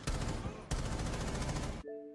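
Rapid automatic gunfire from a video game, dense and loud, firing in two long continuous bursts separated by a short break before stopping abruptly.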